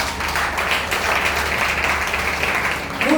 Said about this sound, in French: Alors on applaudit mon Dieu pour ça.